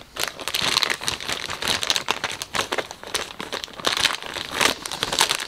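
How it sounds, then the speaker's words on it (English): A plastic parts bag from a Revell 1/25 Jeep Wrangler Rubicon model kit is torn open and handled, giving close, loud, continuous crinkling and crackling in irregular bursts. "I'll tear this bag open."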